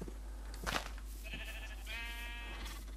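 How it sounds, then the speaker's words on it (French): Minecraft sheep bleating in the Java 1.21.2 pre-release, a few wavering bleats in quick succession with quieter ones trailing after, fairly close, with no voices. "Bon, deux moutons, un bébé."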